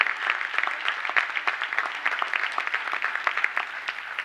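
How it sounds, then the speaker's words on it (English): Dense, steady applause from a school audience at a high school rededication ceremony, honoring the cheerleaders and choir, continuous clapping filling the whole stretch without speech. "Let's give them a big round of applause again."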